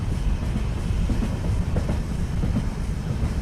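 Cartoon sound effect of a train running on rails, a continuous rumbling clickety-clack of wheels that holds steady and loud with no voices.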